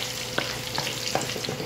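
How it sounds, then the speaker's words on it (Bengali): Two dried red chilies fry in hot oil, giving a continuous close sizzle broken by a few soft spoon-stirring knocks at irregular intervals. "আমি দুইটা শুকনা মরিচ ছেড়ে দিলাম। এবং এটিকে আমি একটু নাড়াচাড়া দিয়ে নিচ্ছি"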